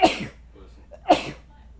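Two sharp, close sneezes about a second apart, sudden bursts of breath with quiet between them, during a casual gameplay session of Mario vs. Donkey Kong.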